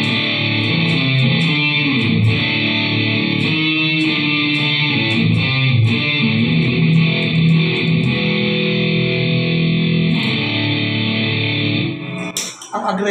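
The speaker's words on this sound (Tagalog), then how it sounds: "So, distortion pedal to ng Thompson. Original na Thompson distortion pedal siya." Electric guitar played through an original Thompson distortion pedal, giving a loud, dense, buzzing overdriven tone with sustained chords and picked notes that ring on steadily throughout.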